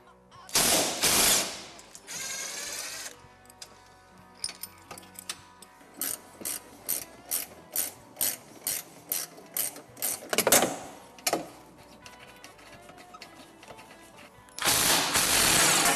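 A ratchet removes the bolts of the factory restraint system on a Yamaha Rhino, giving a close series of evenly spaced clicking pawl bursts, with louder whirring spins at the start and end.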